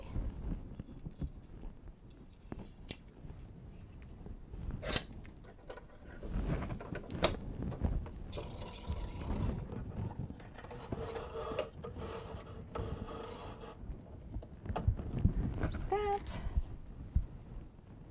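Sewing machine stitching a blanket stitch on pillow fabric, a fairly quiet mechanical whirring and clatter running in bursts with brief stops, and faint talking at times.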